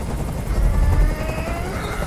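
Helicopter noise in a video game: a loud, steady low rotor rumble fills the clip without a break, with a faint whining tone sweeping above it.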